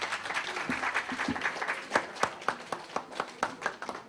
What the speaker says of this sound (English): if you could just join me in a round of applause